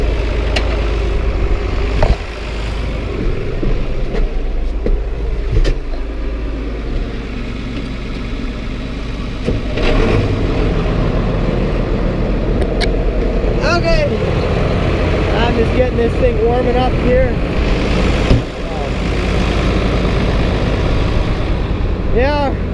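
A blue farm tractor's engine runs at a steady idle during a hay-making day, a continuous close, loud rumble with voices talking over it.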